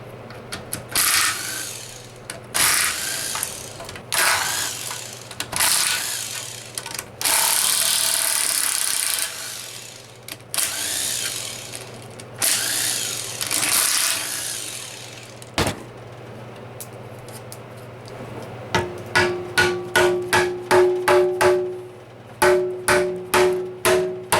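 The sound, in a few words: tools removing transmission pan bolts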